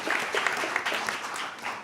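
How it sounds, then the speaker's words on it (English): A synagogue congregation claps for the board of directors, a brief burst of many hands lasting under two seconds, fairly close and moderately loud. "Let's give a round of applause for all those who have ever served on our board of directors"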